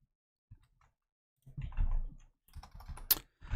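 Typing on a computer keyboard during a Flesh and Blood trading card game stream: a few isolated taps, then a dense, fast run of close key clatter, a short pause and another burst of keystrokes, with no voice over it.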